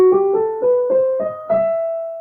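An E harmonic minor scale is played note by note, six clear ascending tones in steady rhythm, each struck and ringing briefly into the next, alone and fairly loud.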